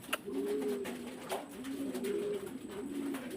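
Soft, throaty pigeon coos repeat in a steady rolling rhythm, fairly close, over a faint background hum.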